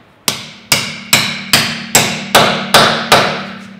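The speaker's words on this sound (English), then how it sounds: "I'm gonna whack it on with a hammer" A hammer strikes a socket on an extension, driving it onto a swollen rear wheel nut of a 2019 Ford Tourneo/Transit Custom: eight loud, close metallic blows at a steady rhythm, each ringing briefly before the next.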